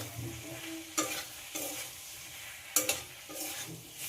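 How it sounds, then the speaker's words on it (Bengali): Papaya and potato pieces being sautéed with spices in a pan, a soft steady sizzle punctuated by several sharp spatula scrapes and stirs at close range, no voices. "মশলার সঙ্গে পেঁপে আলুকেও কষিয়ে নেব খুব ভালোভাবে।"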